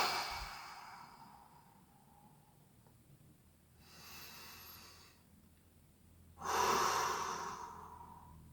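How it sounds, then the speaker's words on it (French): Slow deep belly breaths exhaled through the mouth, heard as two long airy breaths, the second louder and closer, with quiet pauses between. "vous l'expirez par la bouche."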